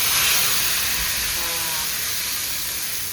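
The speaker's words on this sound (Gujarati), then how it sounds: "નાખી હિંગ અને આ બાજુ જો હવે વઘાર ચાલુ થઈ ગયો છે" Asafoetida tempering for a green chilli kadhi sizzles in hot oil, a loud continuous steamy hiss that fades very slightly over a few seconds, close up and without talk.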